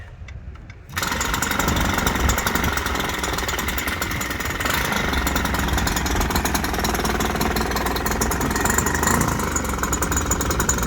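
A giant-scale F8F Bearcat model airplane engine starts up after a moment and runs steadily at full power, a loud buzzing drone close by with no letup.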